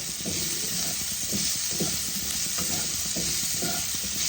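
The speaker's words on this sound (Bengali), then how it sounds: "সবজিগুলোকে আমি আঁচ কমিয়ে কমিয়ে ভাজবো।" Mixed vegetables for a moong dal fry over low heat, a steady background hiss of sizzling oil broken by repeated soft scraping stirs of a spatula in the pan, close and even with no talking.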